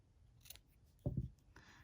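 Scissors snip off excess yarn from a crocheted orange, giving two quick close crisp cuts after a quieter handling rustle.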